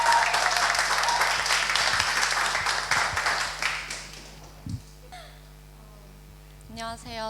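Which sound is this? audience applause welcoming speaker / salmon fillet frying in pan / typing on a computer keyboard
audience applause welcoming speaker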